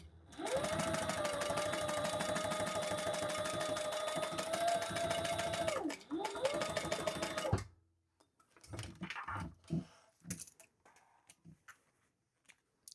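A sewing machine bastes fabric pieces for a crossbody bag, running in a loud, rapid, steady whir for about seven seconds with a brief pause, then fabric handling and light clicks.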